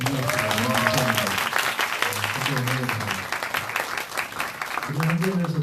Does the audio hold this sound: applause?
yes